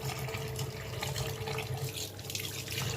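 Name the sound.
washing fish with running tap water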